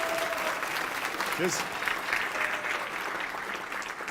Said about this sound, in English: Can we give another round of applause to Jasley?